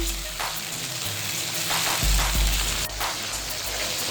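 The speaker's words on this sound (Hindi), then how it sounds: "अब इसके अंदर लहसुन का पेस्ट 1 चम्मच है और अदरक का पेस्ट 2 चम्मच है, बारीक पिसा हुआ है, ये अंदर ऐड करेंगे और इसको इस तरह से मिक्स कर देंगे।" Fine garlic and ginger paste stirred into a hot pot of oil and onions for Bannu beef pulao, giving a loud, continuous sizzle with occasional scraping and clunks from the spoon against the pot.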